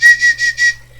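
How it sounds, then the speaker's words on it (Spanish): A person whistles four short, bright pulsed notes in quick succession, close and clear against a faint steady hum, fading out after. "ya silbo como el dandy"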